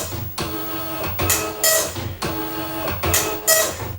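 An Amstrad DMP 2000 dot matrix printer rattles through lines of print, its buzzing head passes broken by short pauses and sharp carriage clicks in a steady rhythm, close and clear.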